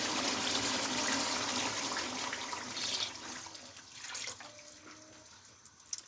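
Water gushes steadily into a cooking pot of rice, a continuous splashing pour that gradually thins and quiets toward the end.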